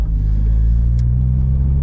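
Supercharged Toyota Corolla T-Sport Compressor engine heard from inside the car, a steady loud low drone under acceleration with no letup, holding a constant rumble throughout.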